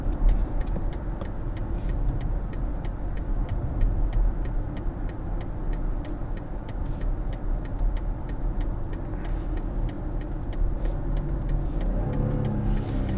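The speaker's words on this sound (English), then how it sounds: "High revving 6-cylinder." A BMW X7 xDrive40i six-cylinder engine pulls hard under acceleration, a steady rising drone heard from inside the cabin with a regular ticking running alongside it.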